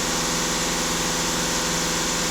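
A VW Golf 2.0 TDI diesel with about 300,000 km on it, held steady at 2500 rpm during an exhaust-pressure check: a continuous, even engine drone with a dense low hum and buzzing vibration, close and unbroken.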